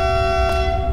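A tram's steady electronic horn departure signal in the TramSim video game sounds continuously over a low engine rumble, brief and unbroken.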